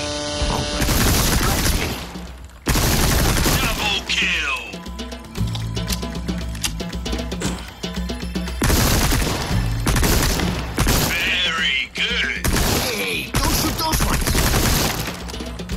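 A TMP submachine gun in Resident Evil 4 Remake fires in repeated rapid bursts, loud and close, with glass shattering and impacts between the strings of shots.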